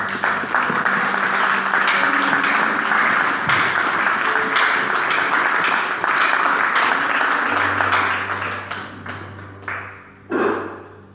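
A church congregation applauds to acclaim the Lord, a dense, loud wave of clapping that fades toward the end, followed by a single thump and a low hum.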